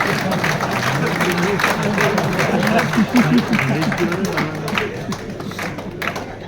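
Crowd of MLAs clapping at a stage event, a dense patter of applause mixed with murmuring voices and laughter, moderate in level and steady over several seconds.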